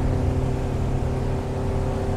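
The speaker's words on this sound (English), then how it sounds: "it's hopping up on plane, trimmed all the way down, bow sticks way up in the air, and then finds its way back down" A 1987 Arima SeaChaser 17 boat with a Yamaha 115 outboard climbing onto plane, its engine droning steadily with a low rumble and water noise, heard close and continuous.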